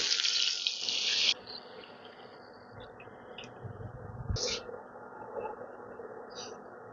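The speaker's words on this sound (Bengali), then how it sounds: "এবারে আমি দিয়ে দিচ্ছি 2 কাপ পরিমাণ জল।" Two cups of water go into a pan on the stove with a short, loud gushing splash in the first second. Quieter faint kitchen sounds follow.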